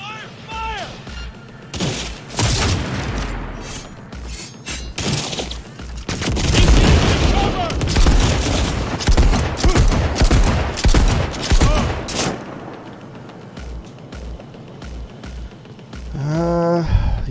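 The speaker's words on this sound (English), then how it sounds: "Firing at close range!" Close-range gunfire in Cyberpunk 2077, a dense barrage of loud, overlapping shots and booms that swells in the middle and holds for several seconds, with a voice speaking briefly at the start and end.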